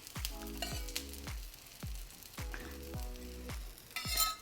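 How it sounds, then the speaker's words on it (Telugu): A wheat flour dosa fries on a hot pan with a little ghee, butter or oil, giving a steady close sizzle that swells and fades in short waves throughout. "నెయ్యితో కానీ బటర్తో కానీ నూనెతో కానీ దేనితో అయినా కాల్చుకోవచ్చు కొంచెం కొంచెమే వేయండి"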